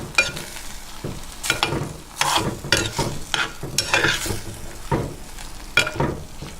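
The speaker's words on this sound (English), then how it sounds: "we're going to cook this for about 10 to 15 minutes so that the fat from the pork can come out and make its own juice" Pork belly sizzles in a pan as its fat renders, with crackling bursts and intermittent stirring scrapes close up, no voices over it.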